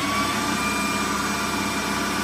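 A Kerry AG lathe motor runs on a VFD at 65 hertz, giving a steady, loud whirring hum with a constant whine that holds unchanged throughout and no talk.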